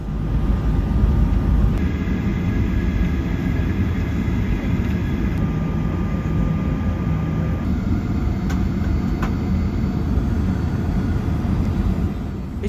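Steady broadband cabin rumble fills a Virgin Australia airliner before takeoff, constant and enveloping, with faint tonal hums and a few small clicks, no voices.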